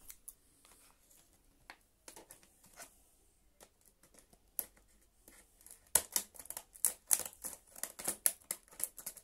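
Opening the plastic package of a Piranha tripod selfie stick bought at an A101 store, heard as dry crackling, rustling and tapping. The handling grows louder and busier toward the end, with no talking.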